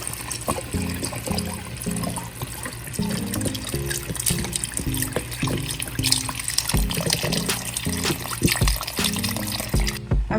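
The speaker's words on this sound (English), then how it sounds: "now we're going to add in our beef stock or beef broth." Beef stock or broth poured into a pot of classic beef stew, a steady liquid splash and trickle running for about ten seconds, close and fairly loud, with no talking.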